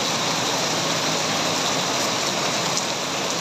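Heavy rain pours down steadily during a bus-spotting outing, a dense, loud, unbroken hiss of drops hitting surfaces close to the microphone, with no voices.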